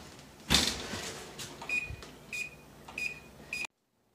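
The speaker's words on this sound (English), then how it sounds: "It has beeped." A kitchen oven timer beeps four times at an even pace while maple sugar ragamuffins bake, preceded by a clunk of the oven or a cupboard, fairly close, with no talking.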